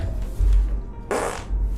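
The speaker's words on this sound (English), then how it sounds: "That deserves one fart in the microphone." A person farts straight into a microphone: one short, close, loud blast cutting through a quiet room hum.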